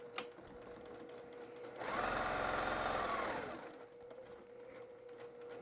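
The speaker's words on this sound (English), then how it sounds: "I've come over to the sewing machine." Sewing machine stitching a French seam along the edge of the presser foot: a steady, fast mechanical whirr running for about two seconds in a quiet room, with small handling clicks before and after.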